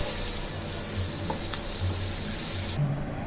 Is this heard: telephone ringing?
no